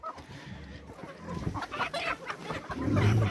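Chickens clucking on a farm, a close, irregular run of several clucks that grows louder toward the end, with no talking.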